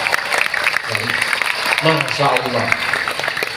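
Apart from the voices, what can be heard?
audience applause at an Islamic boarding school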